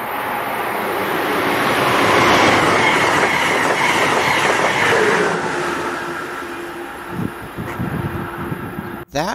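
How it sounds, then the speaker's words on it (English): An Amtrak Keystone Service train led by a Metroliner cab car passes through Princeton Junction, a loud rushing roar that swells and fades, with clattering wheels and a brief squeal near the end. "That was Amtrak Keystone Service Train number 664 passing through at 12:03 p.m. with Amtrak Metroliner Cab Car number 9651 leading"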